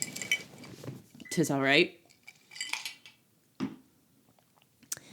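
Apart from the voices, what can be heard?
drink glass clinking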